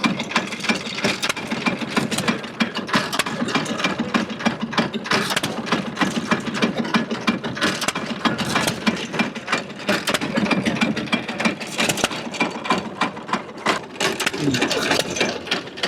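An antique hit and miss engine runs at an antique power show, a continuous rapid mechanical clatter of sharp, regular ticks, steady and fairly close throughout.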